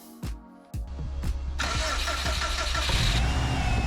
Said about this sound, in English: It still sounded like there was an air leak somewhere, and there was clearly not enough air getting into the engine